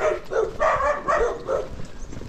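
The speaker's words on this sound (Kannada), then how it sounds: "ನಾಯಿಗಳು ಸ್ವಾಗತ ಕೋರುತ್ತವೆ." Dogs bark at a tent campsite near Chikmagalur, giving about five close, fairly loud barks in an uneven rhythm, with no talking over them.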